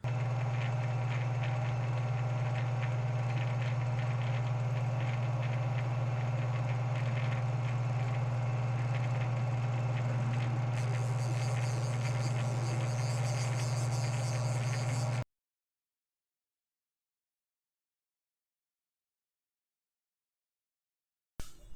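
A lathe remachining a steam engine flywheel part gives a steady, loud motor hum with a tonal drone and a faint high whine, running evenly for about fifteen seconds before cutting to silence.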